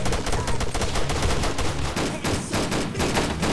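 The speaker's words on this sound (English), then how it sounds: "I'm gonna spin around and hold down the primary fire button" A primary weapon fires continuously in a video game, a loud, close stream of rapid shots with only brief dips, rattling on without pause.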